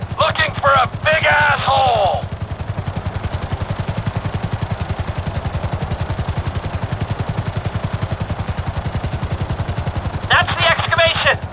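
A GTA 5 helicopter hovers close, its rotor beating in a fast, even thump throughout, with speech breaking in at the start and again near the end.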